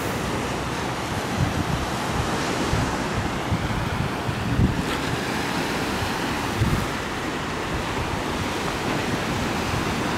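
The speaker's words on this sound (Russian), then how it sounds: "Интересно, к вечеру волны будут больше или" Steady roar of sea waves washing onto a hotel beach in Alanya on a morning, broadband surf wash with wind noise across the microphone, continuous and fairly loud with slight swells, no voices.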